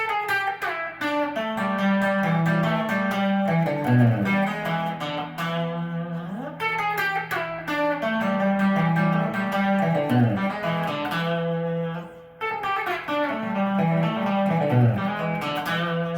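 An electric guitar plays the same quick fingerpicked lick from a solo three times with clear, ringing notes, close and steady, with no voices.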